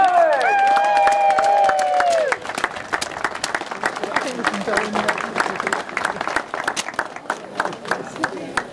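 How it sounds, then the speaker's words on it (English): Crowd at a point-to-point horse race meeting at Hexham bursts into applause and cheering, a steady wash of clapping after a brief loud tonal sound at the start, with crowd chatter mixed in. "Big round of applause for Jackie Coward!"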